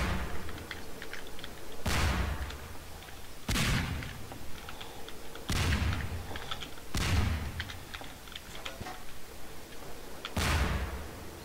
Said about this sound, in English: who the hell is firing the cannon?